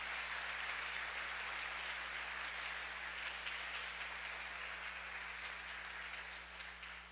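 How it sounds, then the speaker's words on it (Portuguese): Worshippers in a church clap in a continuous, even round of applause that holds steady and then fades away at the end. "Dê uma salva de palmas a Ele"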